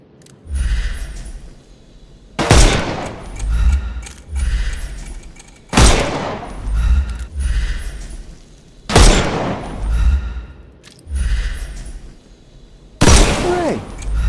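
Gunfire in the video game Sherlock Holmes Chapter One: loud bursts of shots strike in spaced volleys roughly every three seconds, each with a booming low thud and ringing tail, separated by quieter stretches of ambient game sound.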